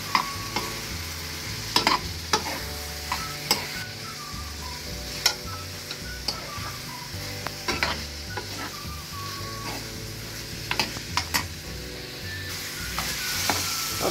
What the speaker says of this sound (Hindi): अब इन सारी चीज़ों को मैं अच्छी तरह फ्राई कर लूँगी।